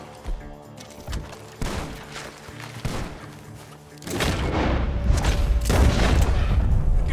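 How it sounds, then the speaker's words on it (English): Gunfire and an explosive blast in the video game Red Dead Redemption 2: scattered sharp shots and thumps, then a loud rumbling barrage of rapid gunfire and booms filling the last few seconds, with no talking. "The gunshots are coming from that bomb."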